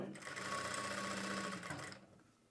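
A close, steady sewing machine runs for about two seconds as it stitches fabric, a dense rapid whir, and then stops abruptly.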